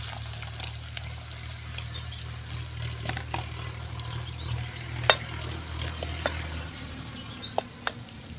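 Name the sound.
onion frying in cumin tempering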